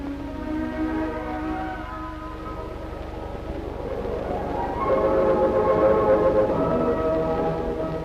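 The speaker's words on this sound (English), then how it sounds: "In the distance we see approaching the train from Busan, which is bringing the relief clothing." A train from Busan approaches carrying relief clothing during Korean War relief work, its steady rumble swelling as sustained horn or whistle tones rise louder toward the end.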